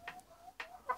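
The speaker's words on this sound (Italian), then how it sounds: "Ecco qua, questa è una gallina" A hen gives a few soft, short clucks, three quick notes spaced apart at close range.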